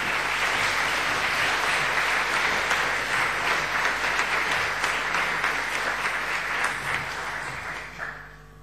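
An audience at an academic graduation ceremony claps for a Bachelor of Education graduate, a dense, sustained round of applause from many hands that fades out toward the end, with no speech over it.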